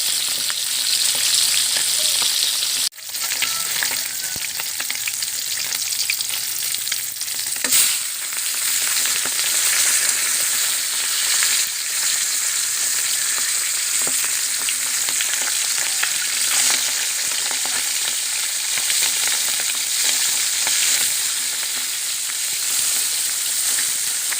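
Bilong-bilong fish frying in hot oil, a loud continuous spattering sizzle heard up close, broken by a sharp knock early on and a brief clatter a few seconds later.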